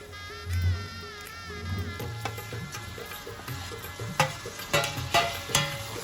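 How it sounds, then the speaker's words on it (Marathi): Prawns sautéing in masala in a pan, a soft continuous sizzle broken by several sharp scraping stirs and clanks of a spoon against the metal. "आणि कोलंबी सुद्धा मसाल्यामध्ये जाम परतून घेऊ"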